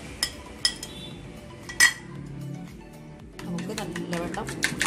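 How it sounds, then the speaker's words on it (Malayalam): Metal utensil clinking and scraping against a bowl while a milk, egg and black pepper mixture is beaten by hand, with sharp clinks early on and quicker, denser tapping toward the end. "നമുക്ക് നല്ലവണ്ണം കൈ അടിച്ചു കൊടുക്കാം."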